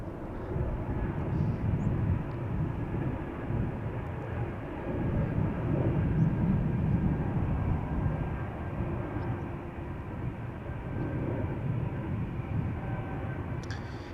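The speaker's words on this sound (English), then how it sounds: "Air Baltic just took off from center to Vilnius" An Air Baltic airliner takes off at Amsterdam Schiphol Airport, a broad, steady jet-engine roar that swells and eases gently over several seconds, heard alone without voices.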